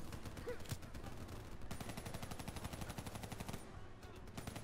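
Rapid automatic gunfire bursts in a first-person shooter video game, sharp repeated shots crackling continuously at close range with a short pause before heavier firing resumes, some faint game ambience underneath.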